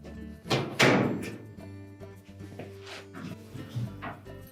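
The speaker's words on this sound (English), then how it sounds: "You can then close the door up." A Whirlpool dryer door is pushed shut, giving a couple of close thunks and a slam followed by softer knocks and handling sounds, with no voices.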